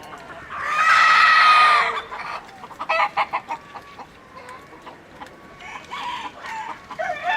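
A rooster crows loudly up close, followed by a run of short, choppy clucks from chickens nearby.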